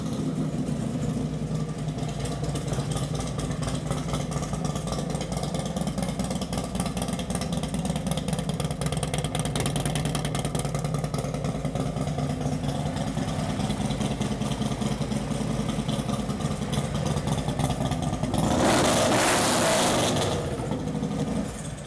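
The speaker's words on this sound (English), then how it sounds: "Pretty loud exhaust system." A used Harley-Davidson Street Glide FLHX with a loud aftermarket exhaust idles in a steady, low rumble that runs unbroken for about twenty seconds, with a brief louder swell near the end.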